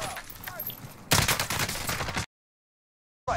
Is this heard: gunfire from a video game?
yes